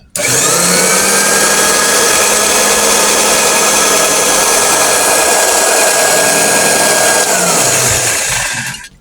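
An electric cloth cutting machine running, a loud steady high-pitched motor whine that holds constant for several seconds before winding down at the end.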